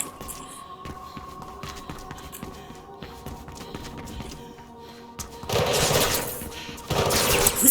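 Bursts of gunfire in the video game Mirror's Edge Catalyst, rapid fusillades swelling loud near the end over a low steady game hum and scattered thumps.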